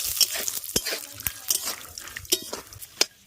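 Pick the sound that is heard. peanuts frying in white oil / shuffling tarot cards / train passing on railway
peanuts frying in white oil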